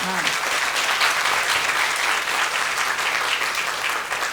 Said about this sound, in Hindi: इस पर तो एक तालियां मेरे लिए नहीं, प्रभु के लिए।